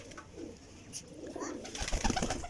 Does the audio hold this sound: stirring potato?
no